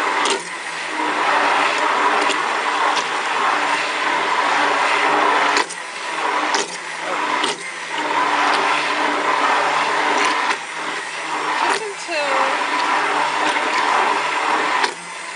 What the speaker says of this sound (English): I don't know if we can hear you above the whirl of the blender there.